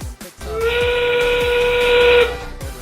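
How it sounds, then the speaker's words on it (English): A loud, steady end-game whistle blows for about two seconds at a robotics league match, a sustained tonal blast over background arena noise. "And the end game whistle sounds."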